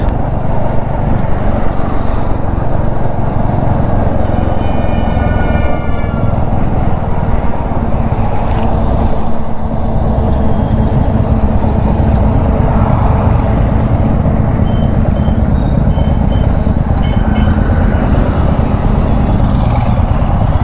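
A Royal Enfield motorcycle on a group Sunday ride in Delhi-NCR, its engine thumping loud and steady for the whole stretch, with wind and road noise mixed in.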